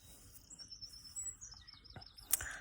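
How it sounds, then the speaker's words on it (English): Birds sing in the morning at a Dartmoor campsite, clear high warbling phrases and chirps repeating close by, with a sharp louder note near the end over quiet background. "And the birds are still in good voice at the moment."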